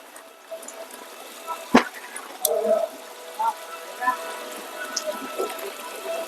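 Spring water seeping out by a fig tree at a village temple shrine, a soft steady trickle with faint drips, heard close and quiet beneath light background sounds.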